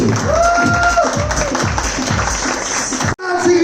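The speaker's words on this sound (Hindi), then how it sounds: "जोरदार तालियां यार, कम ऑन" Audience applause at a large Navratri Divya Raas Garba Mahotsava in Mumbai, steady crowd clapping under a loud, rhythmic music track, which cuts off abruptly near the end before resuming.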